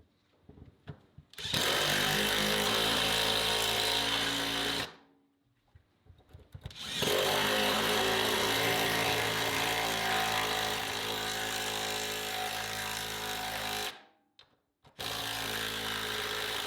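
A power tool driving bolts through the ends of a workshop wall-mounted table: loud sustained whirring bursts of several seconds each, separated by brief quiet gaps with small clicks and handling noises, close to the listener.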